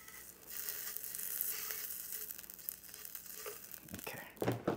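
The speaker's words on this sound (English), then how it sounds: "Here, I'll sear it for you at the end there." Japanese A5 wagyu beef searing in a hot pan, giving a steady, close sizzle that holds throughout, with a few crackles and scraping sounds near the end.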